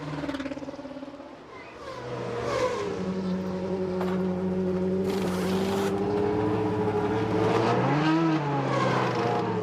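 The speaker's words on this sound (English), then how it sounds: "Leaving in a welter of tyre smoke, Jose Maria Lopez, so he too has made his stop" A GP2 race car pulling out of its pit stop at Silverstone, its engine revving and rising in pitch through a quick acceleration, heard at moderate distance amid circuit noise.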